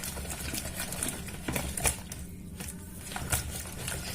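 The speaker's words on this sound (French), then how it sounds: "on va prendre un fouet et on va mélanger" A whisk beats sugar, yeast and semolina in a bowl, giving a fast, close run of light clicking and rattling taps with a couple of slightly louder knocks, and no talking.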